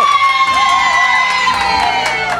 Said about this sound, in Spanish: que suena el aplauso por ahí todo el mundo